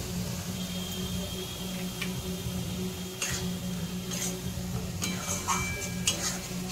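Spices for egg curry, with Kashmiri chilli powder and salt, are stirred and fried in a pan: a steady low sizzle under occasional scrapes and light clinks of the spoon on metal, close by.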